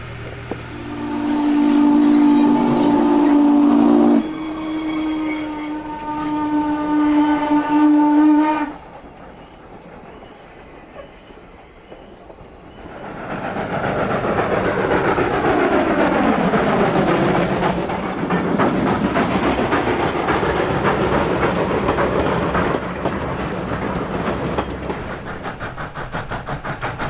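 A steam whistle blows loudly twice, then Norfolk & Western Class M steam locomotive number 475 chugs and rumbles past with rhythmic clatter of rail cars, loud and nearby.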